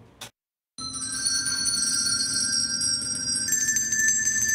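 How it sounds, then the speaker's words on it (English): Handbells rung by a senior bell choir in a care center hall, sustained bright ringing tones layered over each other, steady and fairly close after a brief silence. "The sound of bells ringing through the halls of Care Cardinal Byron Center."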